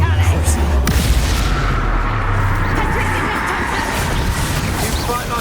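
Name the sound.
Bombarda blast spell exploding in Hogwarts Legacy video game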